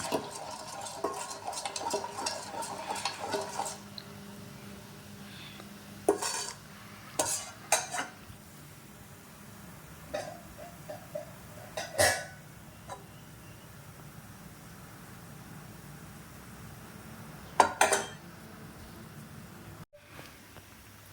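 A spoon stirring rice flour mixed into water in a kitchen vessel, with scattered clinks and scrapes against the container in short bursts, fairly close and otherwise quiet.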